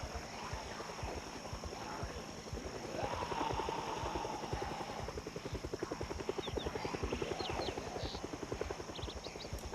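A helicopter in a zombie video game thumps with a steady rapid rotor beat, its loudness swelling and easing over several seconds against faint ambient background noise.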